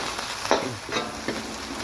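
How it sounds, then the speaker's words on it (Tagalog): Ginger sautés in a pan for mussel tinola, giving a faint steady sizzle broken by two or three light stirring scrapes, with no talk. "Gigisahin na natin siya hanggang sa maluto yung luya."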